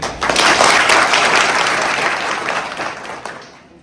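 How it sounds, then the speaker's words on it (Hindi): At a school skill-development fair, a crowd claps energetically, the applause strongest early and gradually fading out by the end. "ताली बजाएं।"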